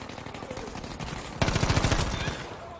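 An M2 Carbine fires automatic bursts in a Battlefield 5 match, a rapid, loud rattle of shots that grows denser and stronger about halfway through over continuous game noise.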